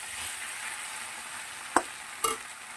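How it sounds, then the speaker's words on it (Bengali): Mixed vegetables fry in a pan with a faint, steady sizzle, broken by two brief utensil clinks near the end; no voices. "বেশ ভালো ভাজা ভাজাও হচ্ছে সবজিটা"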